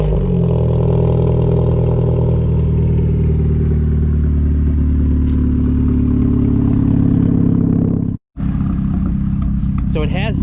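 Mazdaspeed3 fitted with an aftermarket exhaust, loud and close, with a deep idling burble and revs throughout, a sudden brief cutout near the end, then the engine picks up again.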